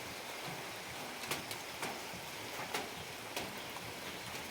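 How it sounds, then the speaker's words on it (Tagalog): Light drizzle falling outdoors on a rural farm plot, a faint steady patter with a few sharper drops ticking on a nearby surface, quiet and continuous with no voices. "umaambon-ambon na"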